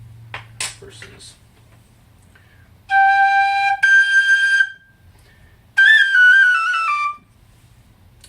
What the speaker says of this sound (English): it is a loud whistle.